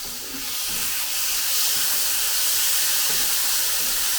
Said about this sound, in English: The sambal, okay, the one that we made just now. Add that in.